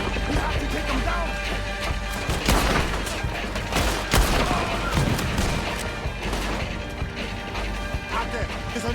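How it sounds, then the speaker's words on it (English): Gunfire in Red Dead Redemption 2 during a Chapter 5 mission, with a shooter in a tower: repeated sharp shots and crashing impacts in irregular bursts, mixed with game dialogue and background clatter. "He's shooting."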